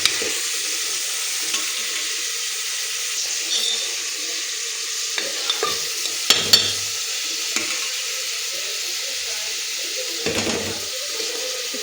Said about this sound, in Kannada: ಈರುಳ್ಳಿ ಹಾಕ್ಕೊತಾ ಇದ್ದೀನಿ. ಎಲ್ಲನೂ ಚೆನ್ನಾಗಿ ಫ್ರೈ ಮಾಡ್ಕೊಬೇಕು.